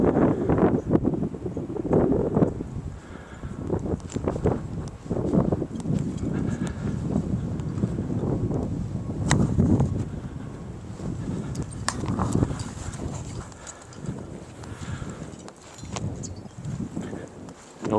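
Blizzard wind gusts roar and buffet a microphone outdoors in Buffalo, rough and uneven throughout, with scattered crunching and thumps from walking in snow.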